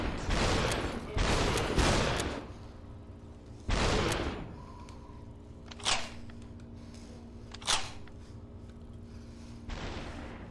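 Gunfire in the VR game Superhot: a rapid burst of shots, then single heavy bangs spaced a couple of seconds apart, each followed by a short decay over a quiet hum.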